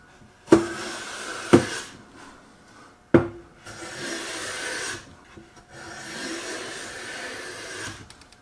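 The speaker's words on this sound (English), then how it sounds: "Normally I would not use a smoothing plane for this, but I've got it out." A smoothing plane shaves wood on a trestle horse in several broad rasping strokes, each opened by a sharp knock as the plane is set down, the strokes near and loud with no talk.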